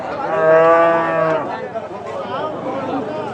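A cow moos loudly and close by at a cattle market, one long drawn-out low call, followed by softer background murmuring.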